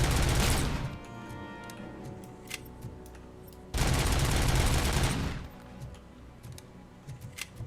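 Sniper rifle gunfire in the video game Robocop: Rogue City, two loud broadband bursts each lasting over a second, separated by quieter game ambience with scattered faint clicks.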